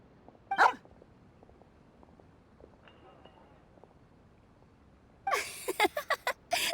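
A dog named Swuff in Genshin Impact barks in a quick burst of several loud yips near the end, after a quiet stretch with one brief sharp sound early on.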